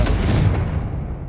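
A Confringo blasting spell bursts in the Hogwarts Legacy video game, a single loud, close explosion with a heavy low boom that fades quickly into a rumbling tail.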